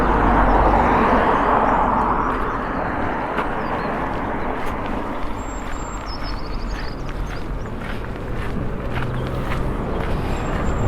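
Continuous broadband roar of passing road traffic through an English village, loudest at the start as a vehicle goes close by, then a steady rumble with faint birdsong above.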